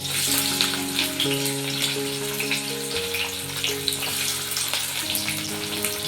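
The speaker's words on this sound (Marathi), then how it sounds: "तेल गरम झाल्यावर आता कढीपत्ता टाकते मी आणि कांदा टाकून देते" Curry leaves and chopped onion hit hot oil for a Bhogi vegetable dish, giving a continuous, even sizzle with an underlying tonal hum, moderately quiet and close, with no voices.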